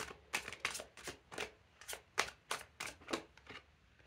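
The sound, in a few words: tarot cards being handled and drawn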